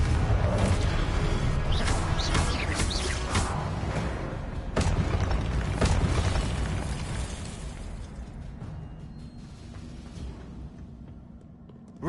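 A Confringo spell explosion from the video game Hogwarts Legacy bursts loudly with crackling impacts and debris, then rumbles and fades away over several seconds, with no talking.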